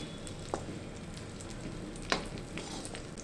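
Dry fruit pieces frying gently in a pan, producing a steady soft sizzle with a couple of brief clicks and scrapes of stirring, heard alone without talk.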